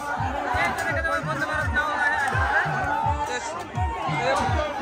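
Supporters of the Bande Bharat boat cheer at a traditional boat race, a dense crowd din of voices with a rhythmic pulsing beat beneath, while a commentator talks over it.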